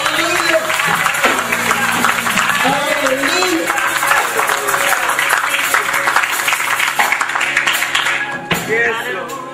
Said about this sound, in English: Come on, let's give my hand clap again.